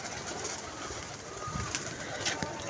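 Several pigeons cooing nearby, soft low coos over a steady noisy background with a few faint clicks and rustles.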